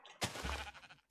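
A single sheep bleats loudly in Minecraft, one short wavering call lasting about a second, close and clear with no talk over it.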